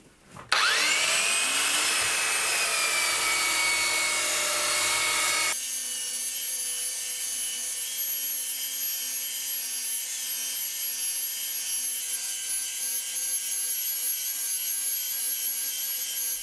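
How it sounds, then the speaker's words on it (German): A power sander whirs steadily at close range over a wooden cutting board of apple and walnut, its pitch dropping slightly after a few seconds, then running on at a constant drone. "Und jetzt werde ich das auch schon einmal schleifen."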